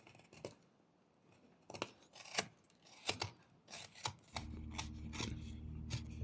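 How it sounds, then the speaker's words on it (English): A whittling knife makes a string of short, crisp sweeping cuts into a carved wooden owl, each stroke a quiet scrape close up, followed by a steadier low rustle near the end. "Here I'm defining the edges of the wings, mostly with just sweeping cuts."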